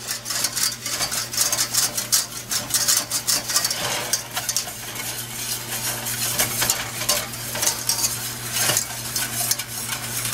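Spoon stirring and scraping the bottom of a skillet while deglazing with alcohol for baked tenderloin, steady sizzling with repeated scraping strokes throughout, close and fairly loud with a low hum beneath.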